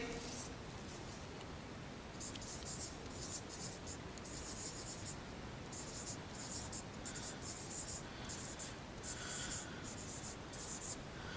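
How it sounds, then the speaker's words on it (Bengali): Pen writing an example by hand during an English lesson, a faint steady scratching of strokes under a constant background hiss, with no talking. "দেখো আমি একটা উদাহরণ লিখছি, উদাহরণ লিখে দিই।"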